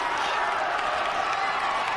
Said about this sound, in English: Oh, this crowd is awesome.